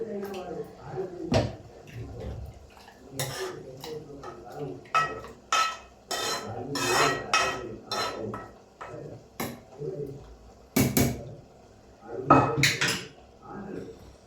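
Cooled tomato gravy and tempering are spooned into a steel mixer jar close by, with irregular clinks, scrapes and clatter of utensils against metal throughout.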